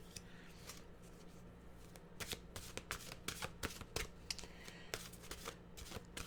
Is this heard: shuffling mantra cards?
yes